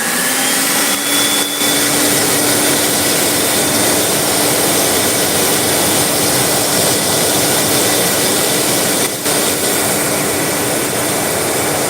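A rocket stove fire set to burn out a tree stump roars steadily and loudly just after ignition, a dense, unbroken rushing drone with a faint tonal hum running through it.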